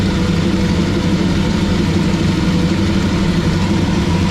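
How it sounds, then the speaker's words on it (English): A 40-year-old carbureted engine idles high at a steady, continuous drone, loud and close with an even low rumble and no change in pitch. "with the exception of it idling high, it don't really sound horrible."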